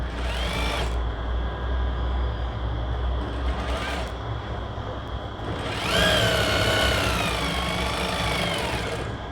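A sewing machine stitching a blouse runs in steady whirring bursts, stopping briefly and restarting several times, close and loud, while someone talks over it.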